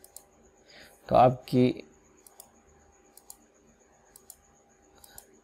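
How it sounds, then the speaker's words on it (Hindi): A computer mouse gives several sharp, faint clicks spaced irregularly across a quiet room during an online job application, while someone speaks a few words briefly. "और फिर रजिस्टर पे आप क्लिक करेंगे"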